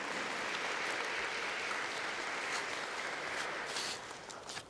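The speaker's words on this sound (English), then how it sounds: "Let's have a round of applause for all our 21 winners." Steady, dense applause from an audience at an awards ceremony honoring teacher award winners, sustained throughout before tapering slightly at the end.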